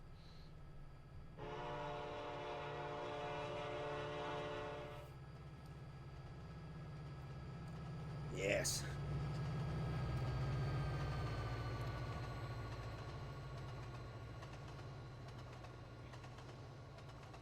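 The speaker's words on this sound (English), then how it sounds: "We haven't done a flyby. Let's actually look at our entire train." A Union Pacific SD70ACe locomotive, the 1989 heritage unit in Trainz Simulator 2, sounds a long horn blast and then rumbles past pulling auto racks, the engine and wheel roar swelling as it nears before fading; a voice briefly speaks.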